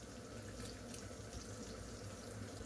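Water poured into spice masala in a pan makes a steady, faint rushing hiss that stays even and continuous from start to finish, with no voices.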